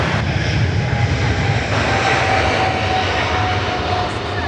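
A jet airliner landing on runway 16 right at Sydney Airport roars loudly and steadily for several seconds, a broad continuous engine rumble with no talk over it.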